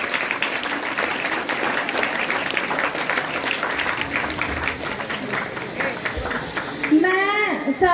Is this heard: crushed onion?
no